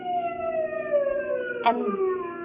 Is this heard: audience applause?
no